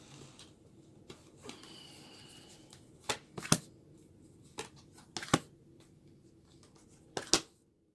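Quiet handling of tarot cards: soft shuffling and sliding with several sharp slaps and flicks scattered through, close by and without talk.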